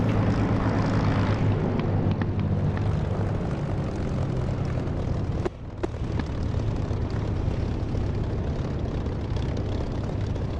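Aircraft taking off from a runway in the DCS flight simulator game, a loud continuous engine roar with a brief dip midway, steady throughout with no talking.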